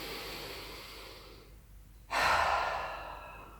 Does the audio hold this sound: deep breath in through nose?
yes